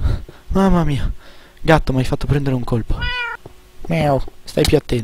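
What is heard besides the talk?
cat meowing in the video game Minecraft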